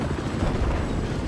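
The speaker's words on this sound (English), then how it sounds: "I got eyes on an enemy chopper" A helicopter's rotor roar drones loud and close in Battlefield 4, a steady dense rumble with no talking.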